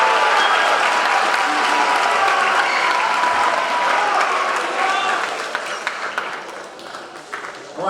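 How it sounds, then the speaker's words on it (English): An audience applauds a group of high school debate participants with loud, dense clapping and some crowd noise, which gradually thins into scattered individual claps. "One more applause for this great group of"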